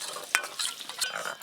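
Ground cumin, coriander, chilli, turmeric and sugar being stirred into coconut milk for an aloo dum malai curry, giving soft scraping and swishing with a light clink of a spoon, close and fairly quiet.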